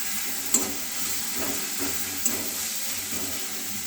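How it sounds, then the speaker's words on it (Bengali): Chopped ginger frying with melted tomatoes in a pan makes a continuous close hiss and sizzle, broken by a few soft stirring scrapes and two small clinks, with no voices. "আদাটা ততক্ষণ ভাজতে হবে যতক্ষণ কাঁচা গন্ধ না যায়।"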